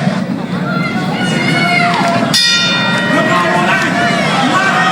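A crowd fills a boxing venue at Harrah's and the Marina Hotel and Casino with a steady roar of voices and shouts as the fighters come out for round two, with a bell-like ring cutting through midway.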